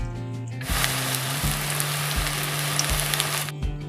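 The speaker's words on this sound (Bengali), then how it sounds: "এগুলোকে উলট পালট করে ভালো করে ভেজে নেবো" Elephant foot yam fritters sizzle steadily in hot oil, a dense, bright frying hiss that runs unbroken for a few seconds, with faint soft knocks of the pan underneath and no talking.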